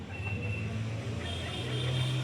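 Road traffic runs right beside a house where pigeons are kept, giving a continuous low engine rumble with a passing vehicle's hum, steady and fairly close throughout.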